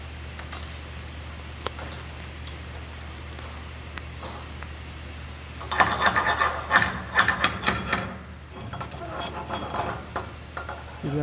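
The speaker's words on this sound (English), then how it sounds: "You see the slag will start to chip off easier." Slag being chipped off a SMAW weld bead with a hand tool after a quiet stretch: bursts of sharp scraping, rasping and tapping that cluster through the middle and return more faintly toward the end, heard close and alone.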